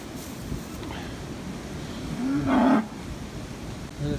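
A cow moos once, a short low call at moderate distance, outdoors at a barn on a cold day with a south wind, over steady wind and background noise.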